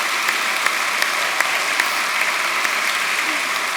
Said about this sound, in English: We need a big round of applause for that